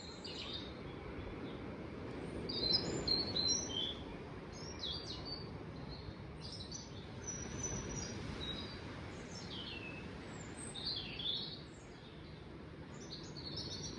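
Robins sing in short, scattered high phrases over a low outdoor rumble on the East Cliffs at Ventnor, fairly faint and intermittent throughout.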